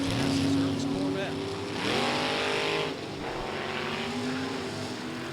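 A 1963 Chevy II drag racer runs down the strip at Norwalk, its engine a loud sustained roar with rising pitch sweeps as it shifts through gears, while an announcer talks over it.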